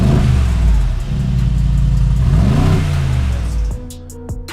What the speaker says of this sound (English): The stock exhaust sounds like this.